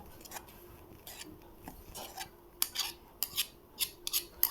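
A spoon serves thick mango pulp for aamras into a bowl, giving soft scraping and scooping at first, then several sharper metallic clinks of the spoon against the bowl close by, with no talking.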